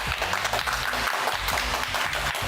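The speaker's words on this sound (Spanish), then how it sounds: "vamos a darle un fuerte aplauso de bienvenida." Studio audience on a live TV show claps loudly to welcome a guest, dense continuous applause with a thumping rhythmic beat underneath.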